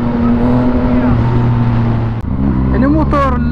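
A Yamaha MT09 motorcycle on a test ride hums with a steady, loud engine drone, then dips briefly and pulls away again with the revs climbing.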